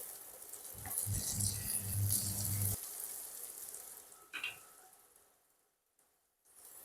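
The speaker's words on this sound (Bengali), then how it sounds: "এবার এগুলোকে একসঙ্গে ফ্রাই করব।" Chopped beans and vegetables fry together in a pan for mixed fried rice, making a soft hiss and sizzle close by that fades over a few seconds, broken by a brief clatter.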